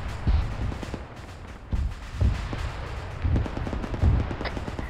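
Gunfire in the military game Arma 3 sounds in the distance, a series of dull low thumps and bursts spaced about every half second to a second over a steady ambient rumble.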